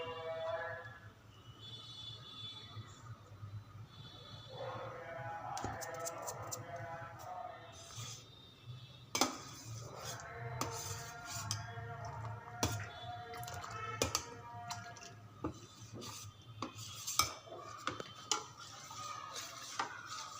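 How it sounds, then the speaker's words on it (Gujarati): Spoon stirring gram flour into buttermilk for Kathiyawadi kadhi in a pot, with repeated scraping and clinking against the vessel, steady and close, under a low background hum. "હવે આપણે છાશમાં ચણાનો લોટ એડ કરીને હલાવી લઈએ"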